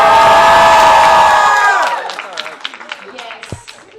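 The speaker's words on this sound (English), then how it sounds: "And shout and scream if you love Life is Strange." A convention panel audience roars with loud shouting and screaming that swells and then fades away after about two seconds, leaving scattered whoops and a single sharp knock.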